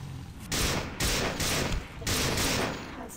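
Rifle fire in the System Shock 2 video game, a fast fusillade of loud, close shots in several bursts separated by brief pauses.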